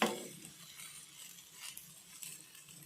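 Okra (bendi) frying and roasting in an oiled pan, giving a soft steady sizzle with light stirring scrapes, a louder burst at the very start and then a fairly even low crackle throughout.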